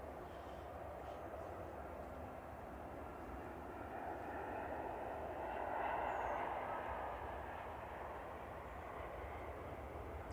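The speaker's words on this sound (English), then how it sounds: "Flight 1344 from Bergen. 10-year-old 737-800 for Norwegian." A ten-year-old Norwegian Boeing 737-800 arriving from Bergen at Manchester Airport, a distant steady jet roar that swells to a peak midway and then fades, with no talk.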